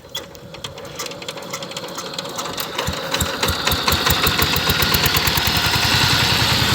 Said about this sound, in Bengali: সাইপিং 16 ঘোড়া ডিজেল ইঞ্জিন, সাইপিং 18 ব্লেডের পাওয়ার টিলার কাদা জমি চাষ করতেছে।